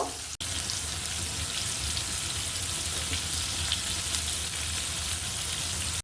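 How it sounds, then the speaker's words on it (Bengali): Battered eggplant slices deep-fry in a pan of hot oil, a steady, loud, close crackling sizzle that runs unbroken for several seconds with no voices. "সবগুলো বেগুনি কিন্তু উল্টে পাল্টে ভালো করে ভেজে নিব"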